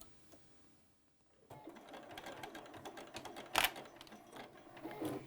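A sewing machine stitches a pleat in a fabric face mask. After a brief quiet start it runs in a fast, steady mechanical chatter at close range.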